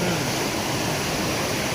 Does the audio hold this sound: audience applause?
no